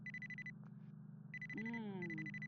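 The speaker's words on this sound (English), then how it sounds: "your phone is beeping" A phone alarm beeps in steady repeating bursts, a high electronic tone pulsing on and off over a low background hum.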